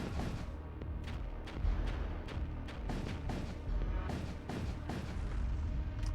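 Weapon fire from the space combat game Void War, a steady barrage of deep booming shots and thuds, repeated at irregular intervals, heavy and continuous.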